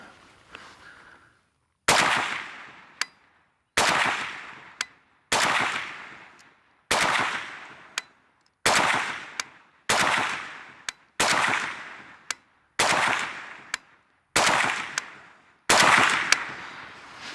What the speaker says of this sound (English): we're gonna keep shooting and see what we come up with